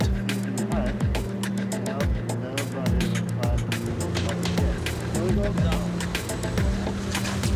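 A Jeep grinds along a bumpy road in Bora Bora, its engine droning with a low rumble and shifting pitch, broken by frequent jolts and rattles from the rough track.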